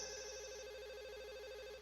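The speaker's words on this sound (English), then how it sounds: "My mobile phone starts to ring, cutting my thinking short." A mobile phone rings in the visual novel Katawa Shoujo, an electronic ringtone with a rapidly warbling tone, steady and clear, playing alone for nearly two seconds.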